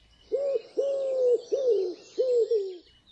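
A wood pigeon coos nearby: a clear series of drawn-out, husky hooting notes with short pauses between them, heard alone against quiet.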